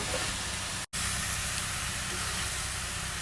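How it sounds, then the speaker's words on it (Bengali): Cabbage frying on a clay stove, a steady broad sizzle with a very brief dropout near the start, a faint voice underneath. "এই যে মা ভাজি ভাজি করতেছে পাতাকপি"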